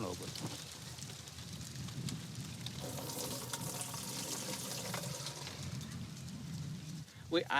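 Insecticide containing flubendiamide being poured into water, a continuous splashing, running-liquid sound under people talking, with a short clatter at the end.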